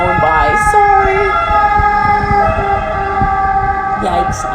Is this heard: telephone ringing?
no